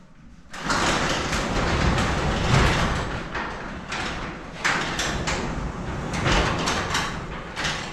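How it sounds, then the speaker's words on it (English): A garage door with new cables, unlocked from its opener, is lifted by hand and rolls along its metal rails with a continuous loud rumbling rattle and clatter, close by, for several seconds, without talk. "You should be able to lift your door by hand"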